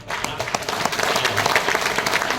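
An audience at a motivational seminar in Ahmedabad claps loudly, a thick burst of many hands with sharp individual claps standing out, rising slightly and continuing throughout with no talk over it.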